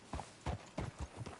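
Horse hooves clip-clop in Red Dead Redemption 2, five or six even, hollow knocks in a steady walking rhythm, fairly close, against a quiet town background.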